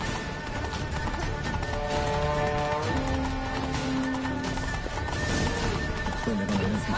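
Roach the horse galloping in The Witcher, a fast continuous clip-clop of hooves with a whinny, under a constant layer of game sound and distant voices.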